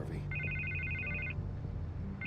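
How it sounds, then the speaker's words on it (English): A telephone rings in Batman: The Telltale Series with a quiet electronic double trill, one long burst followed by the start of another, over a low game background. "I can't get the phone to stop ringing."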